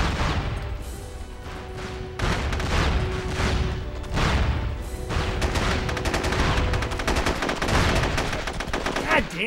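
Rapid bursts of automatic gunfire and single shots crack in close succession during an online firefight in SOCOM II U.S. Navy SEALs on PlayStation 2, loud and sustained over the whole stretch.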